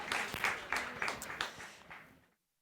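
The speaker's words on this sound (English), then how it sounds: "Give them applause." Audience at a conference on youth, radicalisation and extremism applauding for about two seconds, a crowd of hands clapping together before it stops abruptly into silence.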